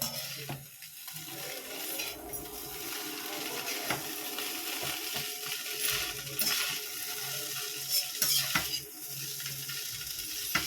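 Egg noodles with tomato sauce are stirred in a pan, giving a soft background sizzle broken by repeated scrapes and sharp metallic clinks of the utensil against the pan.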